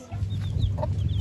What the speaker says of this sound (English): Do you hear all the little chickens and chicks over there?